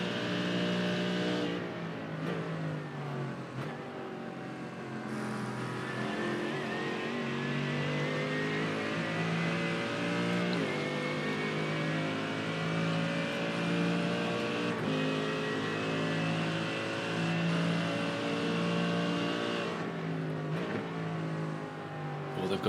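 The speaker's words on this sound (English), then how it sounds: "have a bit of a listen for a few corners to the Mercedes AMG" A Mercedes AMG GT3 race car in iRacing roars loudly and continuously, engine notes rising and falling through gear changes as it brakes and accelerates through corners, with faint commentary beneath.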